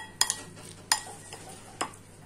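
A spoon clinks and scrapes against the pan three times while green chilli is mixed into a parwal bharta, quiet and close, with faint frying noise beneath.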